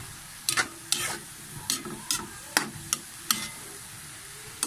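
Vegetables being sautéed for a budget home dish sizzle steadily in a pan while a utensil stirs them in about eight distinct scraping strokes, close and clear over the constant frying hiss.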